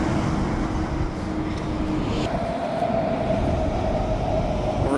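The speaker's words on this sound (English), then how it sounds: "The train will be climbing up that hill momentarily" A train hauled by four locomotives climbing a hill, heard as a steady loud rumble with a sustained engine drone and a rising tone partway through.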